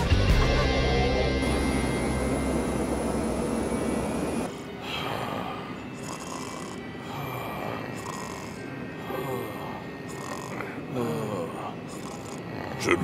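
An airplane flying in a soccer cartoon, a steady engine roar that dominates at first, then drops back behind music, voices and other cartoon sounds.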